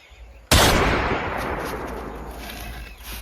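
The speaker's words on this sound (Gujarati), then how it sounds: "ગોળી ચલાવી હતી" A fake gun fires one sudden, loud bang in a comedy skit, followed by a long, noisy decaying echo that fades slowly over the next few seconds, with no talking.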